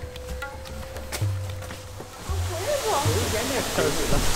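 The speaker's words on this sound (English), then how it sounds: "They have this artificial waterfall here, but it looks amazing, really." An artificial waterfall in a canyon-like area in China gives off a steady broadband rush that swells louder in the second half, with a low hum and faint voices underneath.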